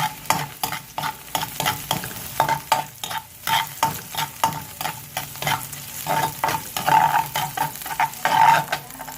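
Ginger and garlic sautéing in a pan for laing Kapampangan: a moderate sizzle broken by rhythmic scraping and stirring strokes, close and unaccompanied by speech.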